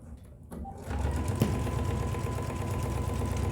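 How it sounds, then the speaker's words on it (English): A sewing machine stitches along the short edges of a tote bag's handles, a steady close mechanical whir that starts after a brief pause and runs evenly to the end. "I'm just going to sew about 1/8 of an inch. Right along each short edge."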